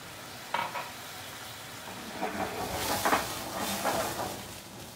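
Bread crumbs frying in a pan over a raised flame, with sizzling and scraping stir sounds in short bursts, close and fairly loud, no voices.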